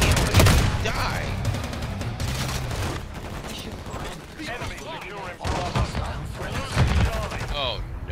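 Gunfire in the Modern Warfare 3 video game on the Shipment map, rapid bursts of automatic shots and scattered blasts crowding together almost continuously, loud and close, with a player talking over the chaos.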